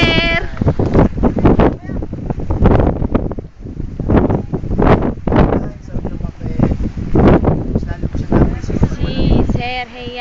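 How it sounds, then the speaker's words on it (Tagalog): Strong wind buffets the microphone near the tents on the summit of Mt. Tarak, roaring steadily and loudly throughout while people talk and call out over it. "Sobrang hangin po dito sa taas."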